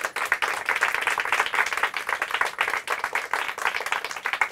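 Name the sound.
audience applause for a school team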